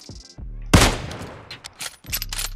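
Gunfire in the mobile battle royale game PUBG Mobile: a loud sharp report followed by a few quicker, lighter shots over a couple of seconds, with a brief voice nearby.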